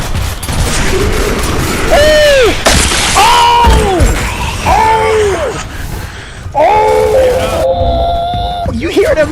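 Headshot gunfire in a video game played on a PS5 Pro, sharp loud impacts and shots with ringing whistling tones, punctuated bursts over several seconds alongside game noise.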